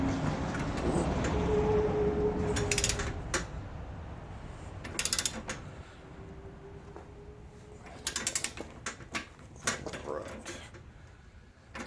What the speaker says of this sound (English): we're going ahead and torquing these 13s down to 35